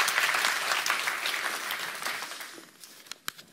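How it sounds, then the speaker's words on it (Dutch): An audience at the opening of Dutch Food Week applauds, dense clapping that starts full and gradually thins and fades, ending in a few scattered claps. "Graag een applaus."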